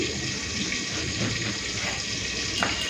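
Tap water runs steadily while eggplant pieces are washed in a sink, a continuous close hiss with a faint clink near the end.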